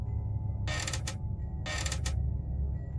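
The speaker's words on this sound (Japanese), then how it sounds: "木の床がきしむ音がしてきた。" Wooden floor creaking in a quiet room, two distinct drawn-out creaks roughly a second apart, each with a short double-pulse groan, heard alone over a low steady background hum.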